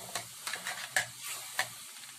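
Pancit canton noodles with oyster sauce are stirred in a hot pan, soft sizzling under several quick scraping and tossing strokes with a couple of sharper clicks, close by and with no voices.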